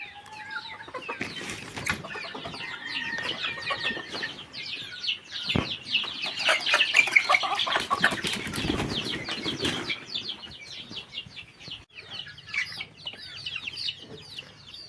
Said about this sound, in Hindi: तो अभी चलिए चूज़ों को खोलते हैं और सुबह का खाना देते हैं